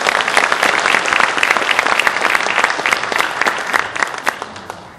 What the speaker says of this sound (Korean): 따뜻한 환영의 박수 부탁드립니다.